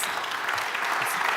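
Audience applause at a conference on de-risking and finance, a dense, even patter of many hands clapping that carries on without a break.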